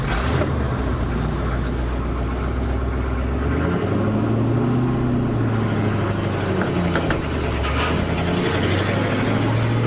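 A 1966 vehicle's engine, driven for the first time after 33 years parked, drones loud and close as it pulls through the gears, its pitch rising and dropping with each shift.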